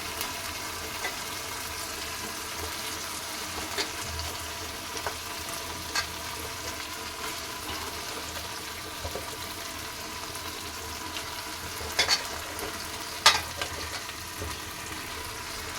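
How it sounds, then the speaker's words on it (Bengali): Large chicken pieces fry in oil with a constant, dense sizzle and occasional faint clinks and crackles, steady and close, with no voices. "এবার আমি চিকেনগুলো দেব।"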